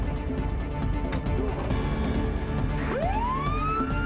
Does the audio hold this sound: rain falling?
no